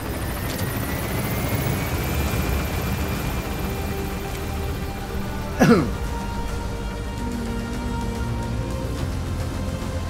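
Helicopter gaining altitude in Metal Gear Solid V, a steady loud rotor and engine drone with a rising whine, a brief sharp burst partway through, under rain-like noise.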